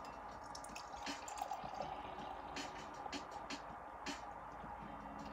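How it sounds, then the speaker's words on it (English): Foster's Premium Ale being poured from a can into a glass, a faint, soft liquid trickle and fizz that continues steadily throughout, quiet and close with no talking. "Let's go for the pour."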